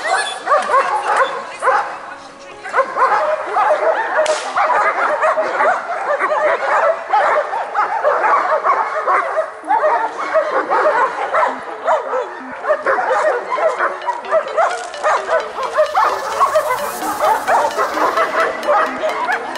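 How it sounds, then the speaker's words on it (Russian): Dogs at a dog show, including a strong male gripping and tugging a mitten, produce a steady, loud mix of growls, yips and whimpers throughout, under crowd chatter and voices nearby. "Вот собака Спартак. Это отец нашего Кинга."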